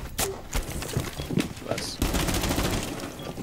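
Game gunfire in Rainbow Six Siege during a ranked match, sharp bursts of shots and clattering impacts, fairly loud, with a brief voice in the mix.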